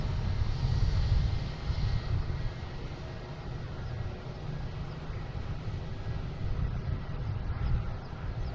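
An American Airlines Boeing 737-800 jet arriving from Miami at Boston Logan produces a steady, broad low roar of engine noise, slightly stronger at the start, continuous throughout with no voices.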